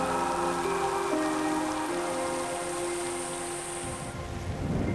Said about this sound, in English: Warm northwesterly winds and tropical rain bring welcome relief to the parched earth.